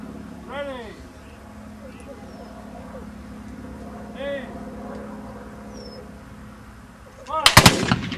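Civil War reenactors of the 2nd and 4th U.S. Infantries at Gettysburg, Pennsylvania, fire a front-rank musket volley, a sharp loud crackling burst near the end after a commander's voice calls out over low background rumble.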